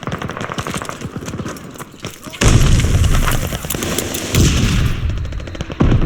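Rapid automatic gunfire and loud booming blasts, including a grenade explosion, fill a Call of Duty Vanguard firefight, with continuous dense shooting growing heavier midway and shouted voices mixed in.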